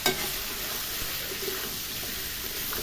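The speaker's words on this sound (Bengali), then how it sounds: "ভালো করে কষানো" Vegetables for a Bengali vegetarian dish sauté in a pan with a steady, close sizzle and faint stirring scrapes, continuous and fairly loud, with no talk.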